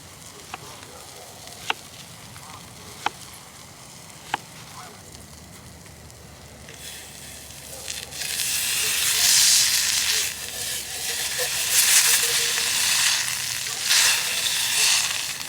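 Peppered bacon hits a hot pan at a cold-weather truck-tent campsite. A few sharp clicks give way to a loud, steady sizzling hiss that builds and keeps crackling, close and continuous.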